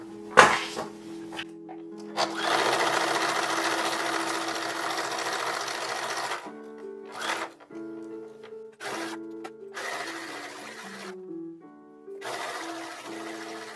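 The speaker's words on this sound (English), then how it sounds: "let's start by sewing up the bibs." A sewing machine stitches fabric bibs in bursts: a long steady whirring run, then several shorter start-stop runs with brief pauses between them, close and clear with no talk.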